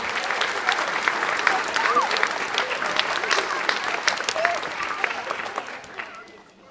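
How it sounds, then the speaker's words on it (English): An audience at a kindergarten musical applauds for two young singers, sustained clapping that carries on for several seconds with a few voices mixed in before fading out. "Please give a nice round of applause to Olivia Morris and Ella Locaputo"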